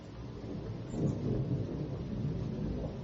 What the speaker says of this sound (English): Listen to the thunder sighing.